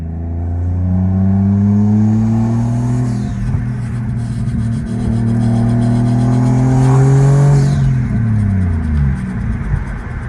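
A 1JZ-swapped Lexus IS300 with a turbo revs hard during a street ride-along, its loud engine note climbing and falling steadily for several seconds right up close, with no talking.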